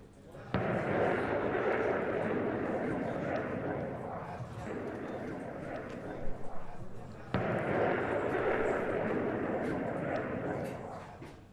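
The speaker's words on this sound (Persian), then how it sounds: "در نخستین عملیات رزمایش ناو هواپیمابر فرضی هدف اصابت 4 فروند موشک قدرتمند ساحل به دریا قرار گرفت" Coast-to-sea missiles striking a target ship in a naval military exercise, two heavy booming blasts, each a sudden loud onset followed by a long rolling roar that fades over seconds, heard from a distance.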